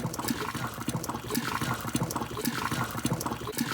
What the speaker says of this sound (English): now I'm going to use the rest of the boiling water, pouring it down the drain.